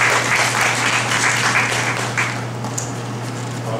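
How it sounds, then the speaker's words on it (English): An audience applauds to welcome a speaker, steady dense clapping from a crowd in a hall that holds for a few seconds and then eases off slightly. "Shall we give him a welcoming hand?"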